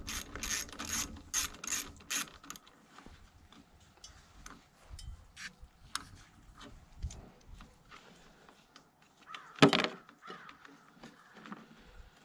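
Spacer nuts on the carburetor studs of an Ariens 24-inch Deluxe snowblower are worked loose with a ratchet: several quick clicking ratchet bursts up close, then scattered lighter metallic taps and a single louder clank near the end, no voices.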